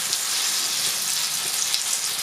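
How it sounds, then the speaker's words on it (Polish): Zucchini fritters sizzle steadily in a frying pan, a constant bright crackle with no talk over it. "smażę ostatnią partię naszych placuszków"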